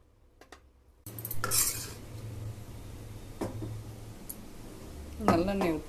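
A utensil scrapes and clinks against a pot while tamarind rice (puli sadam) is stirred, with a few sharp metallic taps over a low background hum and a voice speaking near the end.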